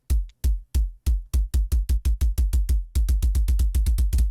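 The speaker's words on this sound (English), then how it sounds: "Next up, we have a retro kick." A retro kick drum preset from the Arturia Pigments 4 synth plays alone, a run of punchy, booming hits that starts sparse and uneven, then speeds into a steady rapid pattern, each thump deep with a short tail.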